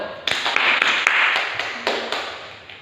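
A few students clapping in a classroom after a correct answer, a short, close, scattered patter of claps with several sharper individual hits over a couple of seconds.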